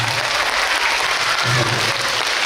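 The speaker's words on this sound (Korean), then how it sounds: "박수가 나왔습니다." A crowd at a live outdoor performance applauds, a loud continuous roar of clapping with cheering mixed in, steady throughout.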